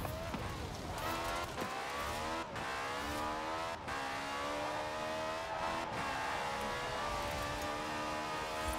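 A car drives in the racing game Forza Horizon 4, its engine holding a steady, loud drone whose pitch climbs and settles as it shifts through gears, running almost without a break.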